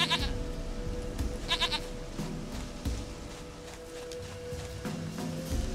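A goat bleats repeatedly in The Witcher 3: Wild Hunt, with close, wavering cries over a busy game soundscape of ambient tones and faint background murmur.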